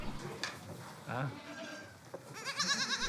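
Goats on a Corsican farm bleat in wavering, vibrato calls, several overlapping from near and farther off, with a burst of rapid quavering bleats at the end and a brief stretch of human talk in the middle.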